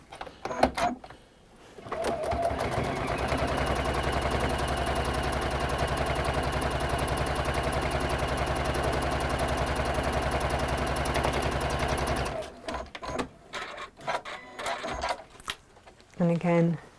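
A domestic sewing machine stitches fabric along a marked line in a textile craft session, whirring steadily and evenly for about ten seconds, with soft handling noises and brief talk before and after the run.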